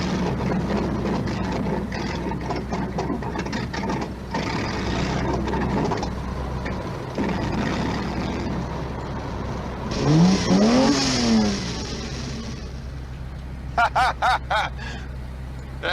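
Ferrari 308 GTS engine from Magnum PI firing up and revving, a throbbing idle with several sharp rising-and-falling rev sweeps and quick bursts near the end, close and loud.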